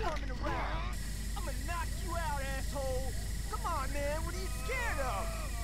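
A spray paint can hisses in The Warriors video game beneath a busy game soundscape, while people talk and chatter loudly over the top throughout.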